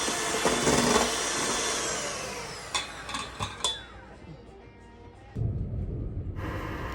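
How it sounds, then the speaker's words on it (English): Hand mixer beating egg whites to soft stiff peaks: a loud whirring motor that fades, interrupted by a few clacks against the bowl, then restarts briefly. "With a hand mixer, you beat the egg whites until you have slight stiff peaks"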